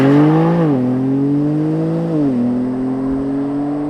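A BMW M3 CS accelerating hard, its engine droning steadily upward in pitch with two brief dips at gear changes, loud and close with no talk.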